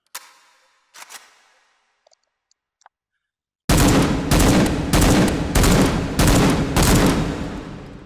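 A compact 5.45x39mm rifle fires in the VR shooter H3VR: a few quiet handling clicks, then a sudden stretch of loud, rapid automatic fire in several close bursts that fade into a short echo.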